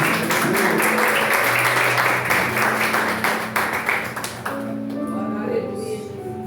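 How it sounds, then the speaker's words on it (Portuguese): A church congregation claps along for a few seconds, a busy patter of hands with voices and musical tones underneath, before the clapping thins and fades into sustained notes. "As palmas logo ao Senhor"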